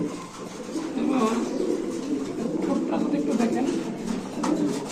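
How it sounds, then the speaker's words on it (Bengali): Beauty pigeons, including black and white pairs, coo steadily at a pigeon market, with the low, throaty calls running throughout and people talking nearby. "তো সে এখানে আছে আরো দুই জোড়া বিউটি কবুতর এক জোড়া কালো এক জোড়া সাদা"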